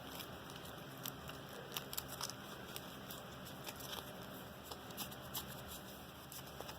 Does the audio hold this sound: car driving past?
no